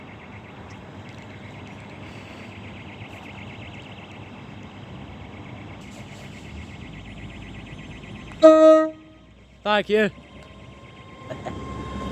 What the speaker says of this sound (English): That was the same train we rided on.